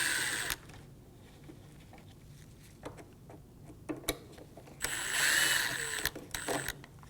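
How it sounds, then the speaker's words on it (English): A power driver fitted with a Phillips bit whirs in short bursts while removing headlight bracket screws on a 2012-2017 Hyundai Accent, with a longer run near the end between light clicks and handling noises. "Using a Phillips head bit, remove the 2 screws for the bracket."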